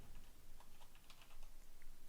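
Someone types a repository name on a computer keyboard in quiet, quick, irregular clicks that sit faint and close, with no talk.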